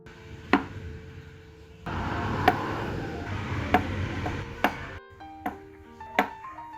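A knife chops peeled boiled eggs into small pieces on a cutting board, sharp isolated knocks spaced about a second apart over faint background noise.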